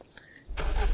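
A smoking red car's engine in the game Unturned cranks and catches halfway through, switching from a quiet lead-in to a loud, close, low rumbling run.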